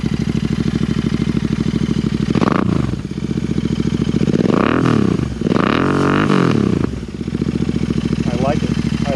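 A Royal Enfield Interceptor 650 fitted with S&S slip-on exhaust pipes idles with a loud, steady, thumping beat. Several sharp throttle blips rise and fall in pitch above the idle.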